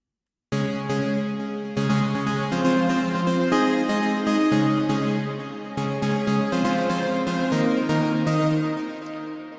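A bright Surge XT polysynth patch plays sustained chords with shifting notes, starting after a brief silence and continuing steadily, with a short gap partway through.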